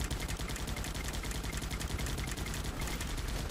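Rapid, dense crackling bursts of gunfire and explosive pops in the tactical game Guns Up, a continuous loud barrage with no pauses, no talking.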